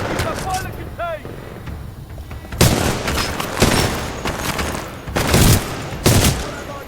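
Bursts of automatic gunfire and heavy blasts in the video game Titanfall 2 come in loud, dense volleys separated by short gaps, with voices speaking over the combat.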